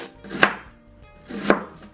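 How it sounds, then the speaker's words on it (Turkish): Two firm knife chops through an onion on a cutting board, about a second apart, crisp and close with no talking. "Onu da küp küp doğrayacağım."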